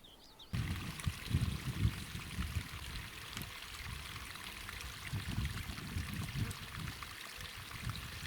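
Water flows through a channel of a wild river near a beaver dam, a steady close trickle and gurgle that starts abruptly and then continues alone.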